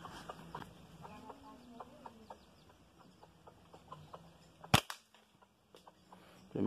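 A slingshot with a turned wooden fork fires a 9 mm ball once, a single sharp snap in an otherwise quiet outdoor setting with faint birds and background noise.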